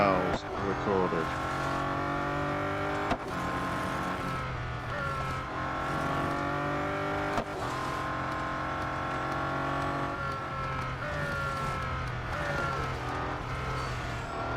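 A Bugatti Centodieci race car in Real Racing 3 overtakes with a loud, continuous engine roar that climbs in pitch through repeated gear shifts, with sharp breaks at each change and a faint voice talking underneath.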